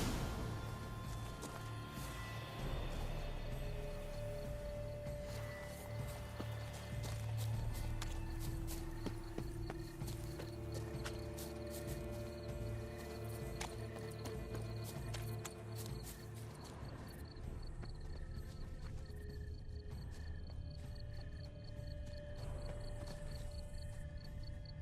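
Horse hooves clip-clopping at a steady walking pace in the video game The Witcher 3, a long continuous rhythm under a dense bed of crickets and ambient game sound, with no talk.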